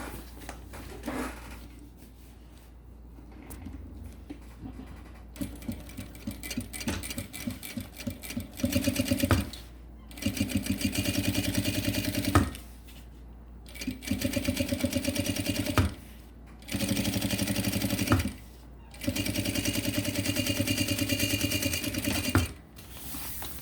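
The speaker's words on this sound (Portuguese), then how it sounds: "eu vou passar um pesponto aqui embaixo, nessa costura que eu acabei de fazer." A sewing machine topstitches along a seam on a gym backpack in several bursts of rapid, steady needle rattle, close and loud, separated by short pauses.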